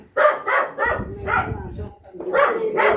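Dogs bark in short repeated bursts nearby, mixed with people talking over them.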